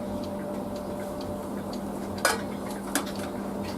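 A spoon stirs a mustard mixture with apple cider vinegar in a pot on the heat, with a steady low simmering hum and two sharp metallic clinks against the pot.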